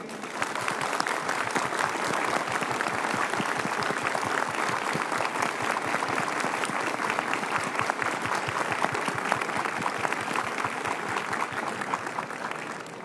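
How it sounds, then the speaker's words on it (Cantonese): A ceremony audience gives sustained, dense applause honouring a Hong Kong rescue team back from disaster relief in Myanmar, many hands clapping evenly and loudly from start to finish with no pauses. "我哋一齊以最熱烈嘅掌聲向救援隊人員致敬"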